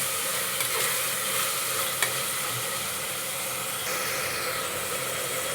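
Tomatoes fry and get stirred in a pan for bread pulao, a steady broadband sizzle running throughout with occasional soft scrapes and a single sharp utensil tap near the middle, no voices.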